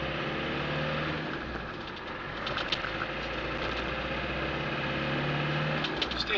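A Land Rover Defender 90 300tdi station wagon drives along a road, its diesel engine a steady low drone that dips briefly during a gear change and then picks back up, heard from inside the cab.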